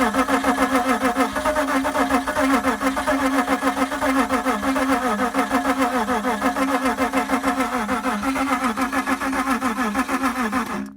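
A neglected BMW E36 M3 engine, dosed with brake cleaner, cranks and catches into a rough, rhythmic running chug that carries on steadily and loudly close by before cutting off abruptly at the end.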